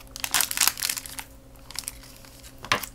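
A plastic wrapper on a Japanese snack is cut open from the top, making loud close crinkles and crackles in two bursts with a quieter stretch between them.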